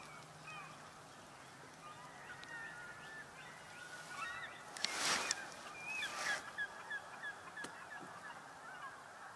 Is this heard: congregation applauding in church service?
no